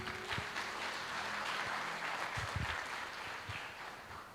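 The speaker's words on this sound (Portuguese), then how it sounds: "uma forte salva de palmas" Applause in a Portuguese-language church service, a crowd clapping steadily and fairly loudly throughout as a pastor is welcomed, with a few heavier claps standing out and faint murmuring beneath.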